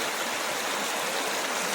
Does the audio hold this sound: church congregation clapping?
no